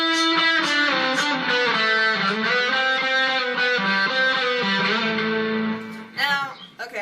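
Distorted electric guitar plays the interlude, a flowing melodic line of sustained notes for several seconds, then a few scrappy muted strums and string noise at the end.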